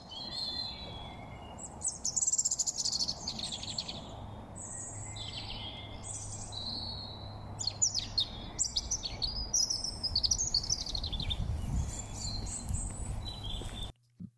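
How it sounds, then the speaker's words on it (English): Many birds chirp and tweet in a busy overlapping chorus, high and continuous, over a steady low rumble of distant road traffic. "all of the birds chirping away"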